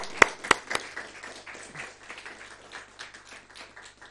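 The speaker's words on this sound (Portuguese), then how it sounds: "Vamos dar uma grande salva de palmas a Jesus." Church congregation at a Sunday service in Portugal applauding in praise of Jesus: a few sharp, loud claps up front, then a soft, steady patter of clapping that carries on through the rest.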